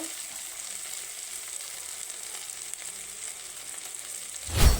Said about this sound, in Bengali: এবার আমি আদা রসুন পেঁয়াজের পেস্টটা দেব।